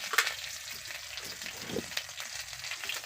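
Dried chillies and kalonji hit hot oil for tempering, giving a soft, steady crackle and spit close by with brief sharper pops.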